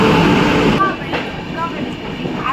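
A train arriving at a station platform, low rumble and rolling clatter with a brief screech, under nearby voices and crowd talk.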